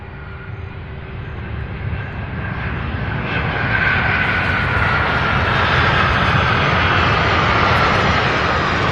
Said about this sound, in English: MD-11 out of Miami, UPS flight